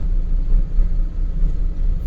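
A ready-mix concrete truck passes close by on the NH66 highway in Kannur, a loud, steady low engine rumble with road noise that swells and holds for about two seconds.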